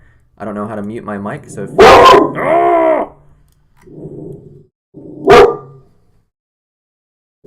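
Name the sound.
dog barking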